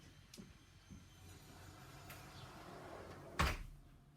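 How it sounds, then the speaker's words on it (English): A room door swings shut with a single firm thud near the end, heard alone over a low hum of background noise. "I'm just going to shut the door"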